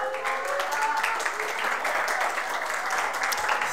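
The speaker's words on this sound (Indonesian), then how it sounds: "Beri tepuk tangan buat Tuhan." Church congregation applauding together during a sermon, a steady wash of many hands clapping throughout, with a faint voice or tonal hum underneath.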